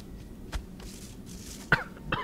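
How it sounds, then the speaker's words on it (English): A single sharp cough rings out, followed by a second smaller one, against a quiet background. "that cough caught me off guard"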